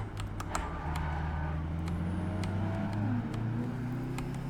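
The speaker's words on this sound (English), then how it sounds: "you probably hear my keyboard keys" Computer keyboard keys clatter in quick, irregular taps close by, layered over a steady engine drone from a driving game.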